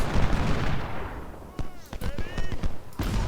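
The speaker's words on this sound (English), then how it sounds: "Our artillery can open up on Pond's open flank." Cannon and artillery fire in the Civil War strategy game Ultimate General: Civil War, with several sharp booming shots and a whistling projectile in quick, irregular succession over a brief battle din.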